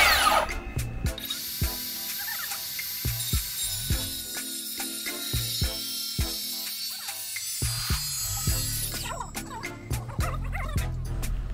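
A worm drive circular saw runs and cuts through wood during timber-frame house building, a steady high whine holding for about eight seconds, with sharp knocks and thumps before and after the cut.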